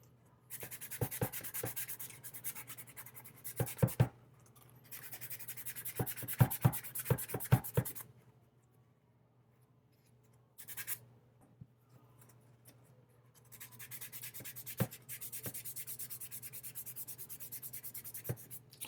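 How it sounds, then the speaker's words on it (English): Hand sanding a Silver Surfer master print, steady close scratchy rubbing strokes in bursts separated by quiet pauses, with small knocks and taps between passes and no talking. "So I'll just sand one area."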